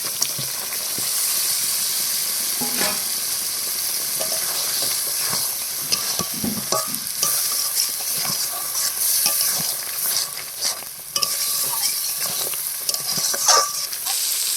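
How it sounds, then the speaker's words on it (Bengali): Freshwater prawns frying in spices and chilli paste in a pan, a continuous close sizzle broken by frequent scraping and stirring clatter throughout, no talking. "এবার চিংড়ি মাছগুলো দিয়ে আরো কিছুক্ষণ কষিয়ে নেব।"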